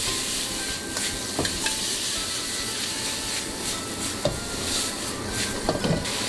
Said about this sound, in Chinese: 再继续开大火翻炒